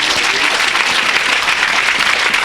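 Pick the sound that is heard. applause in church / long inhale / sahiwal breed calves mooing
applause in church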